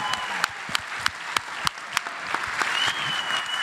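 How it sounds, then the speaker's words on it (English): Applause from an audience at a college athletics Hall of Fame induction ceremony honoring a team and inductees, steady dense clapping with a few sharp louder claps, no talking over it. "not only a round of applause for this team, but a round of applause for all of the Hall of Famers tonight"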